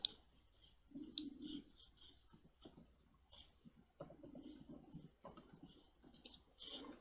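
Faint, scattered clicks of a computer mouse sound at an irregular pace, some in quick pairs, over a soft background.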